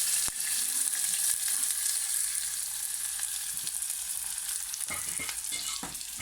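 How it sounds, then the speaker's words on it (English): Half a shallot sizzles in hot oil in a pan, a steady loud crackle throughout with a few stirring knocks near the end. "We're going to simply put half of this shallot into that hot oil and let it soften up."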